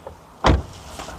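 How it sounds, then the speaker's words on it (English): A single solid slam of a Skoda Octavia's big door, a high-mileage ex-minicab, lands close and loud as a short thud, then quiet. "The door, this big door there."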